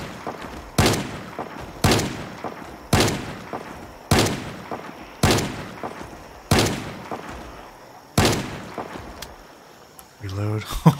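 In the zombie survival game Project Zomboid, a shotgun fires at zombies: seven loud, booming blasts about a second apart, each with a ringing decay, followed by clattering reload sounds at the end.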